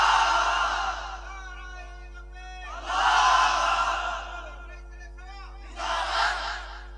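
A large crowd shouts the takbir "Allahu Akbar" at a religious gathering, three loud, echoing waves of massed voices, each call rising and fading before the next.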